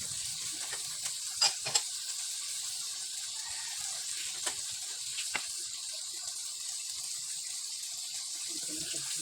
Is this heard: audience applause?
no